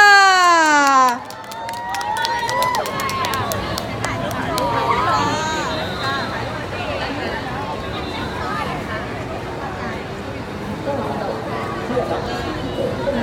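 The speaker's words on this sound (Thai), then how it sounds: "ถ้าพร้อมแล้วขอเสียงปรบมือให้กับคุณเก่งทัชยาค่ะ" A concert audience cheers and claps as a singer takes the stage at a mini concert, with an opening musical sweep giving way to busy crowd noise, whoops and chatter.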